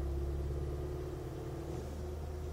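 Steady low rumble with a faint persistent tone inside the cabin of a 2014 Volkswagen GTI, engine held around 1500 to 2000 rpm with the clutch pedal released, continuous and close with no talk.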